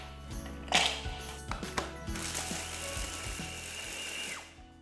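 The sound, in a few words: food processor grinding caramelized hazelnuts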